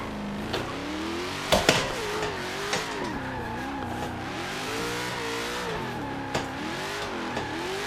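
A car in a racing video game revs and drifts, played on a Logitech steering wheel; the engine pitch swings up and down steadily, with a few short sharp tire squeals and bumps, and no talking.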